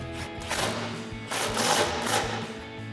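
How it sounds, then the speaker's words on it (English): An impact wrench with an extension and swivel socket tightens 10mm factory bolts on a Ford F-150 exhaust, giving two buzzing, hammering bursts close by, one short and one longer. "We're gonna grab our impact, extension, and 10mm swivel socket and tighten these 2 down."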